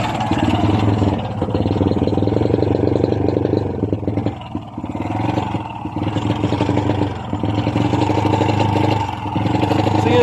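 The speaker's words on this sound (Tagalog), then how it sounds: "Palyado pa rin ang motor" A Honda Wave 100 motorcycle engine running with a misfire, a steady close idle broken by uneven stumbles and dips in loudness, with no talking.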